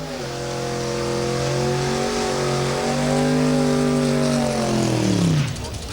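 A modified Ford Pop drag car does a burnout at a drag strip, its engine roaring loud and steady with a held pitch before dropping away at the end.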